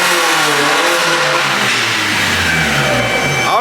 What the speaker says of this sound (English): let me hear it revved up one more time